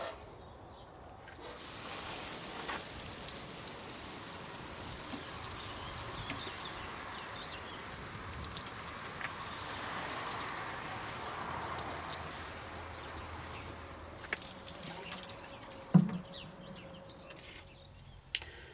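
A garden bed of newly sown carrot rows being watered, a steady soft hiss and patter of water falling on soil that runs for most of the stretch, with a couple of faint knocks near the end.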